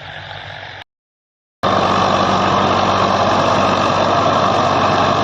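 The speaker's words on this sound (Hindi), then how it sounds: "ट्रैक्टर कितना शानदार लग रहा चलता हुआ" A Swaraj 855 tractor with a 7-foot rotavator runs steadily in a farm field, its loud continuous diesel rumble cutting out briefly and then resuming at full strength.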